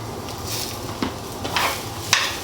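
Bok choy and white parts of green onions stir-frying in a hot pan, a close, loud steady sizzle with brief clacks of a utensil against the pan.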